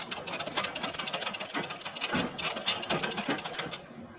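Sewing machine stitching on practice paper, a rapid rhythmic mechanical whirring and clatter running steadily and close up, then stopping abruptly near the end.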